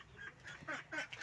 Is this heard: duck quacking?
yes